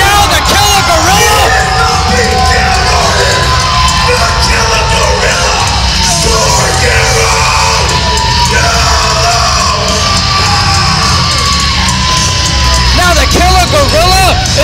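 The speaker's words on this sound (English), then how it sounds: "you hear this crowd tonight here in Oroville" A loud, dense wrestling crowd in Oroville yells, whoops and bellows continuously for the wrestler Killer Gorilla, with the roar filling the hall and never letting up.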